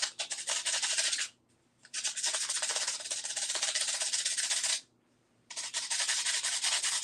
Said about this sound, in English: Now we're just sanding off all the little things right here.